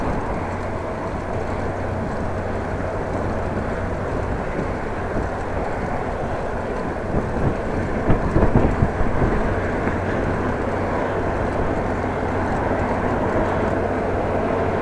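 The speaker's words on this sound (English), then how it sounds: "Still having a headwind in the open area, it's worse actually." Strong headwind roars steadily into the microphone of a cyclist riding through open country near Groningen, a constant dense buffeting with a brief louder gust midway, no voices.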